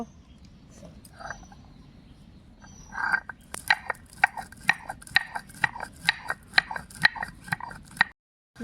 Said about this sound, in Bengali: এবার গোলমরিচ গুঁড়ো করে নেব।